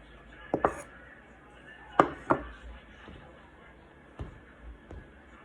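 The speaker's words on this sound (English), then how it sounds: "I'll cut my onion." Knife chopping an onion on a cutting board for homemade beef chili, a few sharp thuds in small pairs spread out over several seconds, moderately close, with faint room noise between the strokes.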